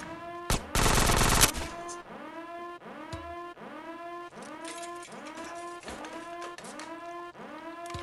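Gunfire in GTA San Andreas snaps out in a steady string of sharp repeated shots, with a loud harsh burst near the start and no talking.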